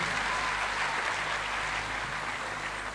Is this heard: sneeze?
no